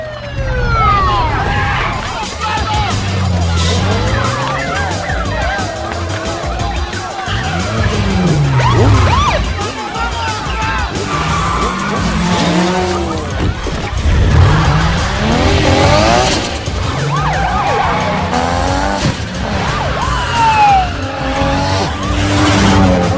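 Street race cars in a film scene roar and screech through sustained tire squeals and skids, with engines revving and a police siren wailing over a dense, loud mix.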